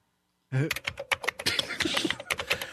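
Rapid keystrokes clatter on a computer keyboard, starting abruptly after a short silence and continuing in a fast, uneven burst of close, crisp clicks.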